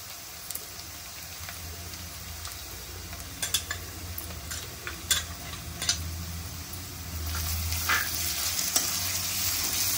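Onions frying in a pan with ginger garlic paste for a mutton curry, a steady sizzle with intermittent stirring clinks against the pot, close and continuous throughout.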